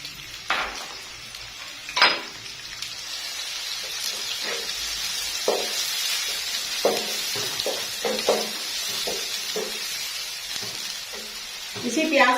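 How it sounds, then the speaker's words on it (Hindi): Chopped onions sizzle in hot oil in a kadai, a soft steady frying hiss punctuated by spoon scrapes and clinks against the pan, with a voice talking over it. "थोड़ा सा गर्म होने के बाद इसमें हम डाल देंगे 2 से 3 अदद प्याज।"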